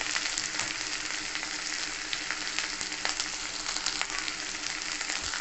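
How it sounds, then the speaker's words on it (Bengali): Potato pieces fry in hot oil with turmeric and salt for a Bengali chickpea snack, a dense, even sizzle with scattered pops, close and steady with no talking. "আলুটাকে ফিফটি পার্সেন্ট ভেজে দেবো"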